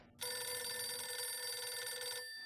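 In the video game GTA: The Ballad of Gay Tony, a telephone rings on a radio call-in show, one sustained bright electronic ring that starts abruptly and holds loud and clear before cutting off, with no talk over it.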